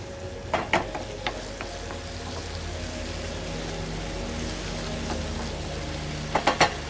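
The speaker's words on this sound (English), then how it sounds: "I'm going to add broccoli to the ingredients." Broccoli frying in a pan for a breakfast frittata, a continuous light sizzle with occasional utensil taps and stirring clicks near the beginning and end.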